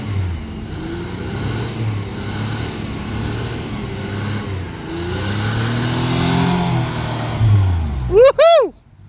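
An off-road vehicle engine strains and revs steadily while climbing a rough trail, loud and close, with voices talking over the drone and a few short sharp noises at the very end.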